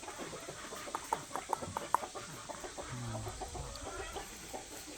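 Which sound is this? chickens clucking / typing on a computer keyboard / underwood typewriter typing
chickens clucking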